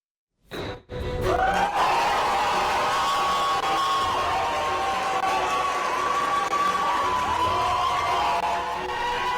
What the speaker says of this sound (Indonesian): Sorak-sorai pengunjung sidang langsung bergemuruh usai hakim mengetuk palu dan memutuskan terdakwa Haris Azhar dan Fathia Maulidianti divonis bebas